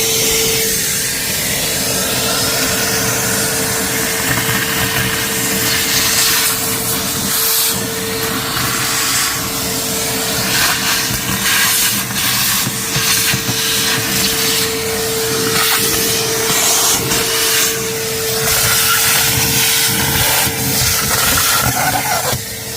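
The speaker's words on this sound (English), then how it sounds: "So I'm going to vacuum all that, clean it up" A vacuum cleaner sucks a chipmunk nest out of a Lexus GX470 interior, a loud, steady whining roar with a sustained tonal hum, fluctuating slightly as debris rattles through the nozzle.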